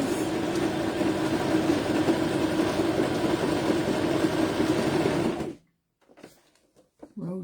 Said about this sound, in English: We're stitching down.